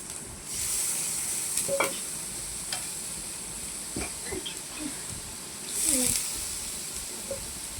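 Tomato goes into hot masala with turmeric in a frying pan, a soft sizzle and hiss with scattered stirring clinks and scrapes, swelling briefly as the tomato hits the oil.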